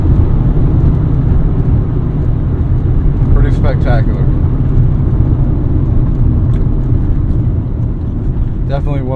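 Classic Honda engine droning loud and close, a steady continuous roar with slight pitch shifts as it pulls through the gears, a few brief tonal chirps over it.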